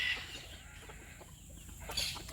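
Chickens cluck softly in a coop alongside a frizzled satin hen and a white silkie rooster, low and scattered with a brighter fowl call near the end.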